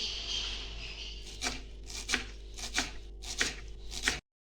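Onion being chopped finely with a knife on a board, about eight crisp, evenly spaced cuts close by, with no talking.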